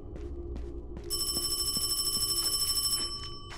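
A phone rings in the horror game Paranormal HK, a rapid metallic bell trill lasting about two seconds, with softer pulsed rings before and after it over low game ambience and no voices.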